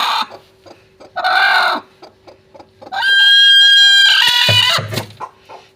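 A large brooding hen sitting on a clutch of thirty eggs clucks in loud, close bursts, then lets out a long, drawn-out squawking call near the end, with no one talking.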